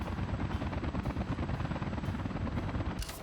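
A helicopter in the Workers and Resources city-building game gives a steady droning rotor roar with a faint rhythmic chop, continuous and fairly close, with no talking.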